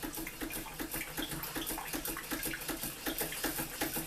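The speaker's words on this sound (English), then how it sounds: "And it pumps a real nice flow of water." A hit and miss model engine running at full speed while pumping a flow of water, rapid regular chugging beats over a steady splash of running water, fairly quiet.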